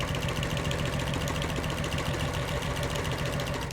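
A sewing machine stitches single-fold binding onto a quilt along a quarter-inch seam guide, running as a steady, close, loud mechanical hum with a fast, even rhythmic chatter throughout.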